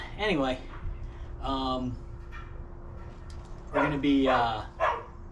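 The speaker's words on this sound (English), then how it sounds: "Sorry about the dogs in the back. Neighbor's dogs are out." Neighbouring dogs bark in the background behind someone talking about building a cage trap for bobcats, the barks rising in a few short bursts under and between his speech.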